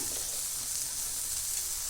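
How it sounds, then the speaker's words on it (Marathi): Chopped green chilies and tomato sizzle and fry in oil on a hot griddle, a steady close, even hiss with no talk. "आता या मी मिरच्या तव्यात टाकणार आता त्यात मिरची आणि टॅमॅटो मी भाजून घेतला"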